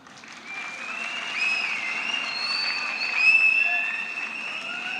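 An audience applauding at a college freshers' day, sustained clapping from a large crowd that swells and holds steady, with faint whistles riding over it.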